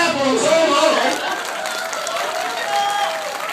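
A theatre audience applauds at a Hong Kong comedy film thank-you screening, a sustained wash of clapping and crowd noise, loud and near, with voices and cheering mixed in.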